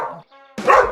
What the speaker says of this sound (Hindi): तो फिर आपको भौंक क्यों रहा है ये?